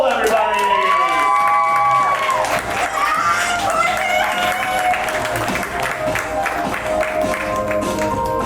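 A comedy club audience claps and cheers loudly and steadily for a stand-up comedian, with whoops rising over the applause while an emcee's voice rings out at the start.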